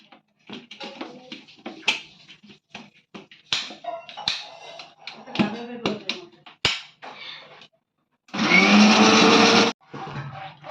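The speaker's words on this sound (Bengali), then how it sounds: "দিয়ে দেবো মিক্সিং বলে, দিয়ে আমি এটাকেও জুস বের করে নেব।" An electric mixer whirs steadily for about a second as it blends watermelon into juice, after a run of clattering, tapping kitchen sounds.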